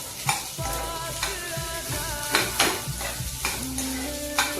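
Onions sizzle in a hot pan for an ivy gourd and onion curry, with a steady fry broken by several sharp bursts of stirring and spoon scrapes; a tonal melody runs underneath and no one speaks.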